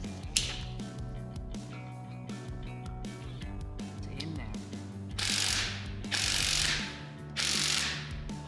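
A ratchet with an 8 mm hex bit clicks rapidly and repeatedly while loosening the side fill plug on an automatic BMW transmission, close and mechanical, with bursts of louder noisy scraping near the end.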